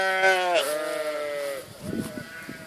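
A bleating sheep rings out loud and close as two groups of sheep come together, its cry fading into rustling movement and softer scattered animal sounds from the flock.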